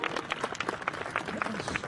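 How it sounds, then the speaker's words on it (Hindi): A crowd gives steady, moderately faint applause at a commando training demonstration in India, with many hands clapping continuously and some murmur underneath. "एक जोरदार तालियां जनता जनार्दन की ओर से"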